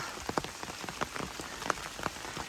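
Steady rain patters on leaves and ground along the Appalachian Trail during a stormy day, a soft constant hiss broken by scattered louder drips, with no voices.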